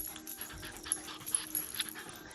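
Max, an intact male dog, pants softly and whimpers in short, faint breathy bursts, with a few higher yips close by and no one speaking.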